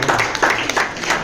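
An indoor audience at a World Book Day programme gives a short burst of applause, with quick overlapping hand claps lasting about a second.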